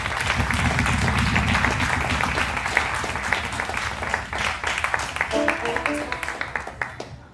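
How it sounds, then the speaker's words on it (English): An audience at a Thursday open mic jam session claps and cheers for a Tina Turner tribute, a dense sustained wash of applause that gradually thins and tapers toward the end. "One more time, round of applause for Tina Turner."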